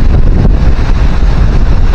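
Strong typhoon wind roars and buffets the microphone in a dense, loud, unbroken rush with low rumbling gusts, no voices heard.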